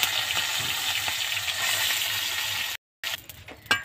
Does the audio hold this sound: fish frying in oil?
yes